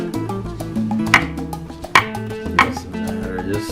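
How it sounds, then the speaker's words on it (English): A knife chops shelled hard-boiled eggs for Puerto Rico-style potato salad, with a few sharp, separate chops on a board under steady background music. "And chop them, just chop them."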